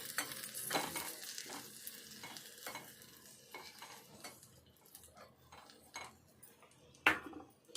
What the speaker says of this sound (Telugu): ఇప్పుడు ఈ కొబ్బరి తురుము ఈ కలర్కి వచ్చేదాకా వేపుకొని ఇది కూడా పక్కకు తీసుకోవాలి.